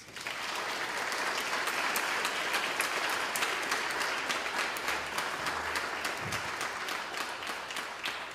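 A church congregation claps for Jesus in a sustained, dense wash of applause that carries on evenly for several seconds with no talking.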